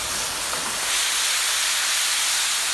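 Sea bass flambéed with pastis on a hot plancha gives a steady, loud whoosh and hiss of flame and steam, continuous and alone with no voices.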